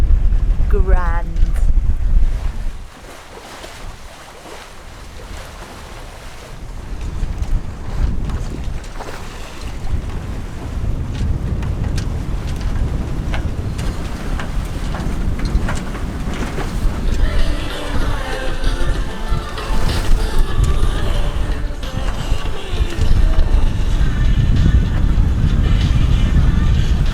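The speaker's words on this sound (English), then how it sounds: "Jib's flapping a bit." Wind buffets the microphone aboard an old sailing catamaran off Corsica while the jib flaps loosely, with water rushing along the hull and brief voices talking.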